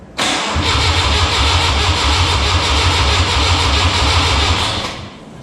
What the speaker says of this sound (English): The engine turns over